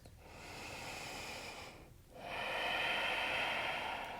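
Two full, slow breaths come close and clear during a yoga flow. A long hissing inhale and exhale is followed by a brief pause, then a louder second breath.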